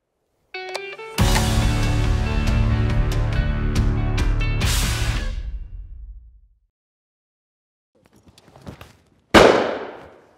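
Shotguns fire during roost shooting in the North Essex countryside, two loud sharp blasts with ringing decay, the first near the start and the second near the end, separated by quiet.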